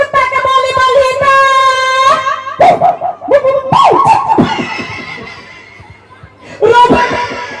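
A toy at a stage show gives out a wavering, howling dog-bark sound in long tonal bursts, loud and close, with people laughing and talking between the calls.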